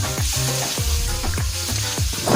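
Squid stir-fries with green chili in a hot pan, giving a loud, close sizzle with rhythmic scraping and tossing strokes about every half second throughout.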